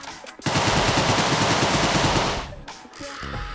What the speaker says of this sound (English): You better believe we are going to be using the machine gun down in the basement here.